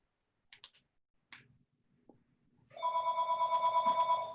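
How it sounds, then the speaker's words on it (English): A telephone rings with a steady, warbling electronic trill during a Zoning Board of Appeals meeting, starting after a few faint clicks and knocks in an otherwise quiet room. "somebody's phone's ringing in"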